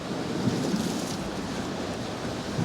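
Strong coastal wind roars steadily past the microphone while fishing for bass in stormy conditions, a constant loud rushing buffet mixed with surf and no pauses.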